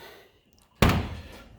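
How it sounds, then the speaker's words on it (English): A car door shuts with a single solid thunk at close range after a near-silent pause, and the sound fades with a short ringing tail. "I have the door on it over here, and that opens and closes good."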